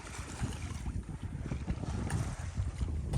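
A 45-year-old sailboat moves under sail in the wind, with gusty wind buffeting and water sloshing against the hull in an uneven, moderate wash and no talk.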